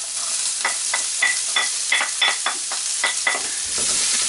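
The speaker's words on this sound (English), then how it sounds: "And I fry the onion for a couple of minutes in the hot fat." Onion sizzles in hot fat with curry leaves in a pan, a continuous frying hiss broken by a string of rhythmic stirring scrapes, close and fairly loud with no voices.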